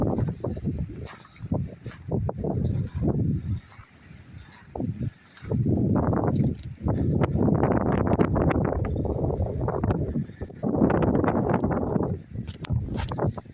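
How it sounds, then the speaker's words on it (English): Strong wind roars and buffets the microphone in uneven gusts on a shingle beach, rising and falling with only brief lulls. "Just a shame it's so windy."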